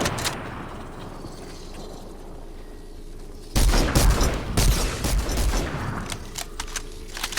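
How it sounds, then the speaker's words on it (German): Infantry rifle gunfire in the video game Fortnite, a quiet rumbling stretch followed by a rapid series of loud, sharp cracking shots with short gaps between them. "Das ist das Infanteriegewehr"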